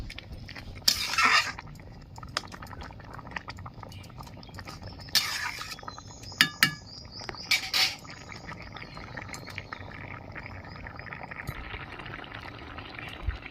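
A pot of boiled tomatoes is lifted off the heat and strained through a sieve, with metal clanks, brief splashy pours and scraping utensil sounds in a quiet kitchen, several sharp knocks standing out.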